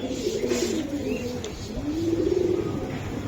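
Soft, low pigeon coos rolling in close by, with a faint background hiss.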